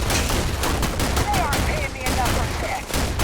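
A semi-automatic gun fires in a video game, a quick run of sharp, close shots with short gaps between them, and voices talk underneath.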